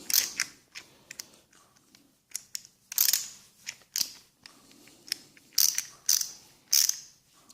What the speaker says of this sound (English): It's a ratchet. It's all in one. So then you got forward, reverse.